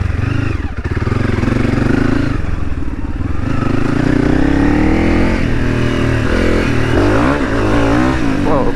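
A Honda CRF300 dirt bike with tall gearing, ridden in second gear into the bush, its engine loud and close as it holds steady revs, then rises and wavers in pitch toward the end.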